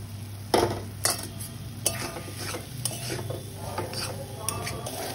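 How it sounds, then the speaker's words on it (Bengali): Snails (gugli) being stir-fried in oily spiced masala for a Bengali curry: a ladle knocks and scrapes the pan several times over a steady low sizzle, close and without speech. "আমি এখন হলো এই গেড়িগুলো দিয়ে দিব, গুগলিগুলো দিয়ে দিব। দিয়ে আবারও ভালো করে কষিয়ে নিব।"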